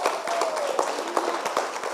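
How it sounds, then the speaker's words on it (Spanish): Congregation applauding during a church service, a brisk wash of many hands clapping with some sharper individual claps standing out, steady and fairly close. "Dale un aplauso al Señor."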